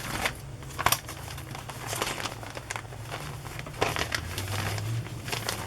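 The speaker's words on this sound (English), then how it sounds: "This is a plastic bag, gift bag." A plastic gift bag among Christmas journal supplies being handled, giving continuous close crinkling and rustling with a few sharper crackles.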